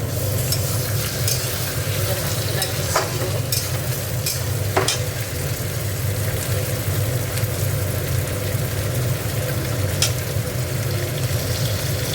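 Chicken meat frying in a pan with little oil, a steady, close hiss and crackle running unbroken for about twelve seconds with a few sharp stirring scrapes, no voices.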